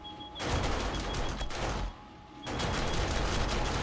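An automatic turret in 7 Days to Die fires rapid bursts of loud, close gunfire in two long volleys, split by a brief lull, with no talking.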